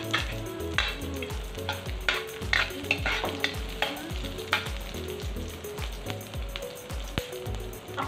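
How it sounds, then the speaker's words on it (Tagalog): Ginger, onion, garlic and chili frying in hot cooking oil for parrot fish escabeche, a close, loud continuous sizzle broken by repeated rhythmic scrapes and knocks of stirring. "Mag-add ako ng cooking oil. Sama ko na yung ating luya, sibuyas, and bawang."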